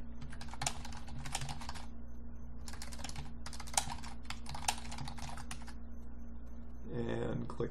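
Bursts of clattering keystrokes on a computer keyboard while metadata is entered in a form, fast irregular typing in several short runs over a faint steady hum, with a brief voice near the end.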